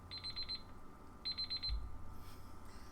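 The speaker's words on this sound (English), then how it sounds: "And that's the timer." A timer alarm goes off in two short bursts of rapid electronic beeping, sounding twice with a pause between, over a low background hum during a live game-streaming session.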